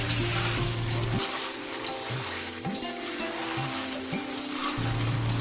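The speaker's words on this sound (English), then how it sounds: "We are going to fry these until they turn golden on high flame." Sepu vadi dumplings deep-fry in oil over a high flame for a Himachali dham dish, giving a dense, continuous bubbling sizzle close by with a low mechanical hum underneath.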